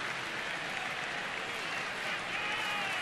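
Big crowd of about 35,000 at a Mets–Nationals baseball game, a continuous roar of applause and cheering filling the ballpark, loud and steady throughout.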